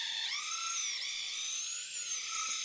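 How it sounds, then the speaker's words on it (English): A cordless drill fitted with an auger bit bores quickly through timber studwork for coach bolts, a steady high whining motor with a slight pitch dip partway through, close and loud with no talking. "So I'm just going to drill through them quickly."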